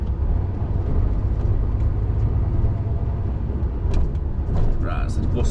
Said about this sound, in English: The bus is stopping there, so I can sneak past